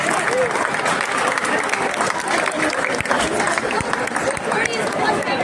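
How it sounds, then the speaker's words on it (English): An audience at a badminton club event in Atlanta applauds a guest speaker, a sustained loud wash of clapping with crowd noise that carries through the whole stretch. "We have all just one big round of applause for her."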